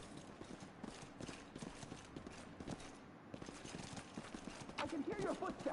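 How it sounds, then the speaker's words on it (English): Footsteps in the video game Pathfinder, a repeated, hollow clopping tread at an even pace, fairly close, with people talking over them. "I can hear your footsteps"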